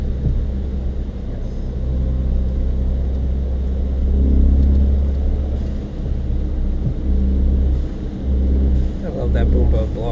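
A Ford Fiesta ST running an E30 fuel blend with a blow-off valve adapter drives hard, its engine a loud, continuous rumble from inside the cabin, swelling and dipping with throttle, with brief higher bursts near the end.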